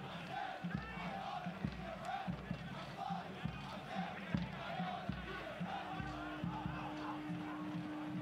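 A stadium crowd at a Charlotte Independence versus North Carolina FC night soccer match murmurs and roars at a distance, a broad steady rumble with scattered thumps and shouts beneath it.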